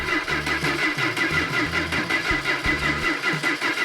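A 400 Magnum engine with a misfire cranks on the starter in a rhythmic, pulsing churn, loud and close, repeating steadily without catching, with no voices over it.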